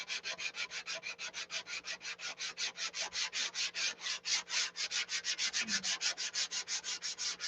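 Rhythmic back-and-forth rasping of sandpaper rubbed by hand across a painted surface before clear coat, steady strokes repeating quickly and evenly, close up.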